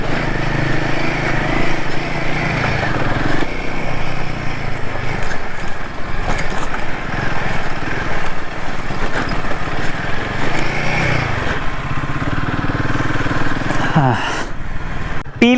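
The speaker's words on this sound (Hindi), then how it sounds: "ये पूरा पैच जो है शेरा सिर्फ पहले और दूसरे गियर पे चल रहा था" Motorcycle engine labouring steadily in first and second gear over a broken stony road in Nepal, loud and continuous with rattling and knocks, someone talking over it.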